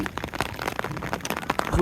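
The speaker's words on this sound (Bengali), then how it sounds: "বৃষ্টি পড়তেছে এখন" Rain falling steadily in Gulmarg, Kashmir, a close, dense patter of drops on surfaces that continues evenly for a short stretch with no other sounds.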